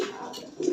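Fancy pigeons in a home loft, a soft low coo at close range, brief and fairly faint, with no voices.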